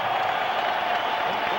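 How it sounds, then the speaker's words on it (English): Arena crowd at a heavyweight boxing bout applauds steadily, a dense wash of clapping and cheering that stays loud and even throughout. "how about a round of applause for these 2 heavyweights in the ring here tonight."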